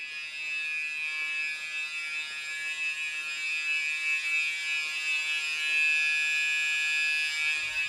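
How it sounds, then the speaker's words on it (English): A door alarm in a campus business building buzzes continuously at a steady, shrill pitch, loud and close, with no voices over it. "Some people set off the door alarm, and I can't turn it off, and it's gonna be buzzing for an hour."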